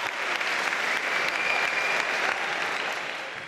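An audience applauds at a stage comedy show in a casino hall in Basel, with dense, sustained clapping that stays loud and even before tapering slightly at the end.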